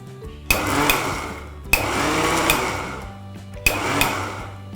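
Three short bursts from a blender grinding cashews with sugar, each a loud whirring spurt of about a second, separated by brief near-silent pauses.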